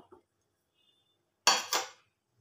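Lid placed on a frying pan holding a potato-egg chicken pancake, two quick metallic clanks close by after near silence.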